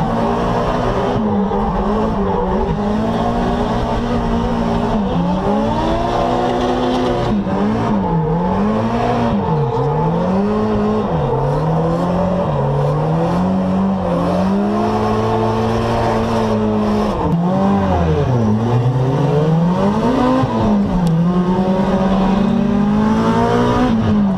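A drift car's engine roars loud and close throughout a tandem drift, recorded from a helmet cam, its revs constantly swinging up and down with no speech over it.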